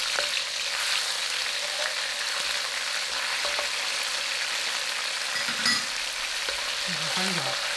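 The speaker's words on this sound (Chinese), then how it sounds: "葱末、蒜末继续翻炒，炒出香味后放入豆瓣酱" Scallion, garlic and doubanjiang stir-fried in a wok give a steady, close bright sizzle with scraping stirs and occasional spatula clinks, no talking.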